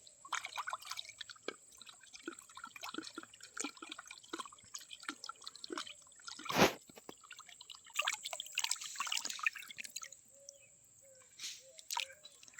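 Raw chicken pieces rinsed under running water while being washed for chicken pakora: steady trickling and dripping, soft wet handling and splashes, with one louder splash near the middle.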